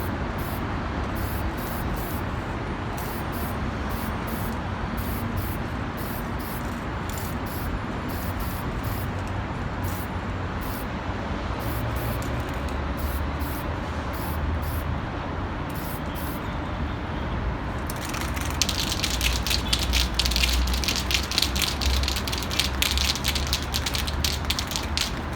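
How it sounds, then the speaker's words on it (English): An aerosol spray can lays heavy coats of paint on the underside of a pinewood derby car, with a long run of closely spaced hissing bursts and then a denser, louder continuous spray near the end. "I have to get in much closer and spray much faster"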